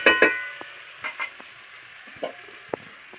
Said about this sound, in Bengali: আলুটা ভাজা ভাজা হতে থাকে